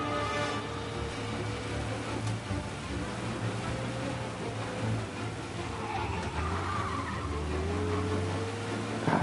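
Car driving in Mafia Definitive Edition, a steady engine drone with low humming tones and occasional tire scrub, continuous and fairly loud throughout with game sounds mixed in.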